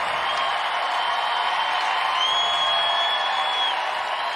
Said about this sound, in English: Now the crowd is really getting excited